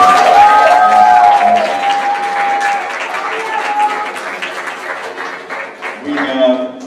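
Audience at a school band concert applauds parents, a broad wash of clapping and crowd noise that slowly tapers, with some talk and a sustained tone underneath.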